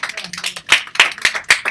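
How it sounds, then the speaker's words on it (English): An audience at a children's event claps in a few sharp, uneven bursts, close and brief, with no sustained ovation. "Yes, if you're going to clap, you clap."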